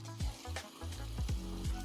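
Hot water splashes and pours over glossy wooden furniture to soften surface dirt, a close, continuous gurgling flow with a few heavier splashes.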